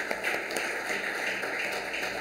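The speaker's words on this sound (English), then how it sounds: "So, round of applause to them." People at a county board meeting give a steady, even round of applause, a dense patter of clapping throughout with no voices over it.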